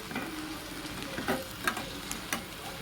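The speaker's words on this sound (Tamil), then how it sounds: "இப்போ வெந்தயக்கீரையை இதில் நான் சேர்த்துக்கிறேன்." Fenugreek leaves added to onions frying in a pan, giving a steady soft sizzle with a few brief stirring scrapes and clicks, close and fairly quiet, no talking.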